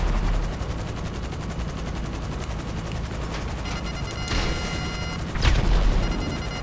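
Gunfire in the video game GTA Online, a dense, continuous rattle of rapid automatic shots up close, with a couple of louder sharp cracks and a heavy thud punctuating the barrage near the end.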